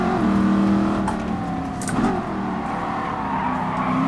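A Ford Mustang V8 races around a track in Gran Turismo Sport, its engine droning steadily at high revs with brief tire squeals, loud and continuous.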